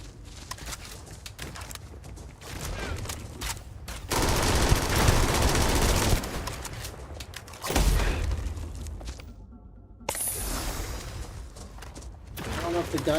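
Shooting in the video game Black Ops 7 comes in loud, dense bursts of rapid fire that alternate with quieter stretches, while a player talks over the game sound.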